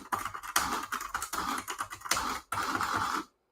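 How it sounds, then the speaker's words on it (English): A 10-key accounting calculator clatters under rapid key presses, with dense close-up clicking bursts and one brief pause before a final run ends abruptly. "This is for an accounting, I think they call it a 10-key calculator."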